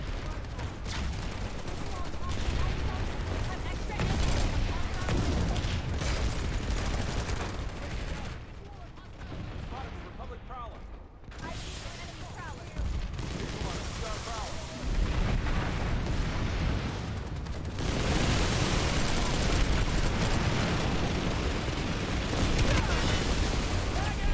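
Shotgun blasts and heavy gunfire in the online shooter PlanetSide 2 form a dense, continuous barrage of loud shots and booms, with a brief lull midway before the firing resumes.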